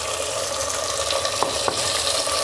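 Chopped tomatoes go into a pan of golden-brown fried onions for a green mutton handi, giving a steady close sizzle and frying hiss with a couple of brief clatters from stirring.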